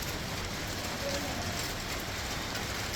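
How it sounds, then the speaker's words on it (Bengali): Light drizzle falling outdoors, a soft, steady wash of fine raindrops heard at a distance, faint and continuous with no voices. "কত সুন্দর বৃষ্টি পড়তেছে।"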